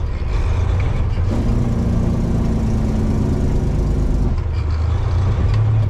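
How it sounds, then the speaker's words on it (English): A truck with a 13-speed manual transmission runs under engine brake, a loud, steady low rumble that holds a droning tone for a few seconds before easing. "Here, engine brake."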